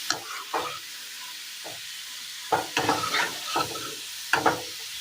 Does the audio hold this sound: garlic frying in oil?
yes